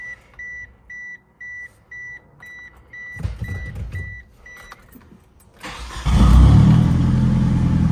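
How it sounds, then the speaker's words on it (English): A 1998 Eagle Talon TSi AWD: repeated chime-like beeps, then a near, loud engine cranking and catching into a steady rumbling idle, with no talk. "Fires right up. No hesitation. Idle's clean."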